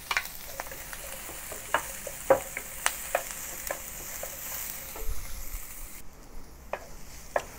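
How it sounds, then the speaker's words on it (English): Onions with chopped garlic sautéing in oil, a steady close sizzle broken by frequent sharp clicks and scrapes of a utensil stirring the pan, with no voices. "Saute the onions with the remaining oil. Then add the chopped garlic halfway through."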